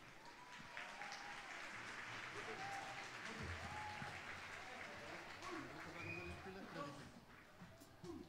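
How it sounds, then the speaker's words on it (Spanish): An audience at a Chilean school national-day celebration applauds a class performance, with sustained clapping under voices and a loud, muffled room ambience throughout. "Un aplauso para ellos."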